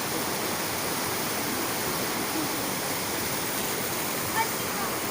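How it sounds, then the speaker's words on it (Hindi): Natural spring water in Kashmir gushes out under high pressure in a loud, steady, close rush of broadband noise, continuous and unchanging for the whole stretch, with a voice faintly present beneath it. "इसमें इतना प्रेशर से पानी आ रहा है"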